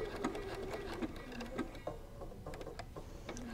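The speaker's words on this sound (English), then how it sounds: "Have the automatic securing set up on my machine. And we'll just sew all the way out." A sewing machine with automatic seam securing stitches along the seam of a cork wallet, a quiet close rapid mechanical chatter with short pauses and stutters between bursts.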